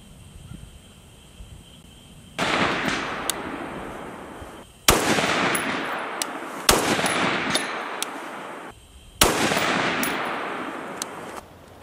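A short-barreled rifle fires 77 grain Black Hills OTM rounds in four loud, sharp reports spaced a couple of seconds apart, each followed by a long ringing echo that decays slowly.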